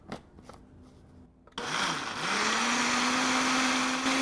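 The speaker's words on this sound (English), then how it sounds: "there was a little scraping between blending going on there" A blender starts abruptly after a quiet stretch of light clatter, whirring basil, lime juice and garlic in a loud continuous roar with a rising motor pitch that settles into a steady hum.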